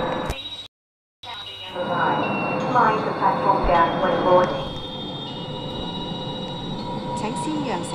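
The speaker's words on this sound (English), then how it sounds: "列车 现在到站。" A Tuen Ma Line train pulls into a station in a Roblox game, with a steady loud rumble of wheels, a high steady whine, and a voice faintly over it before the noise eases.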